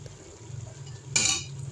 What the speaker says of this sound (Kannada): ಅರಿಶಿನ ಹಾಕಿ ತಿರ್ಗಿಸ್ಕೊತಾ ಇದ್ದೀನಿ ಫ್ರೆಂಡ್ಸ್.